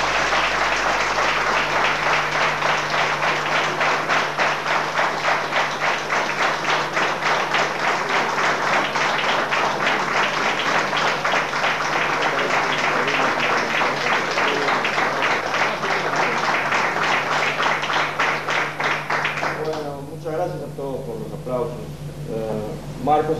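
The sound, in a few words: audience applause for Marcos Velásquez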